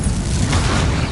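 Incendio fire burst from Hogwarts Legacy, a dense, loud booming rush of flame that holds steady for about a second.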